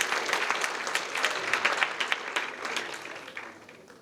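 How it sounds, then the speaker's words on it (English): A school crowd of students and parents applauds with a dense patter of clapping that holds steady, then thins and fades toward the end. "Give a round of applause for yourselves and your parents."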